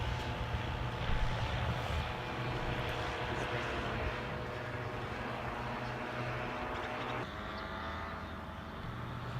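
A paramotor engine drones steadily in flight during landing-approach practice on a first lesson, a loud continuous buzzing roar with wind noise that eases slightly near the end.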